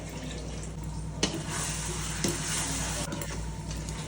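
Water poured into hot oil for dum biryani sizzles and hisses steadily, a loud, continuous frying roar with a few clinks and bumps of the pot, close up and without talk.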